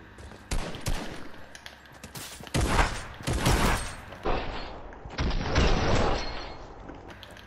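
Gunfire in the Fortnite video game, several bursts of rapid shots, loud and close, with short gaps between them.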